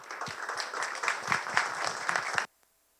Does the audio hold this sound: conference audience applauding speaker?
yes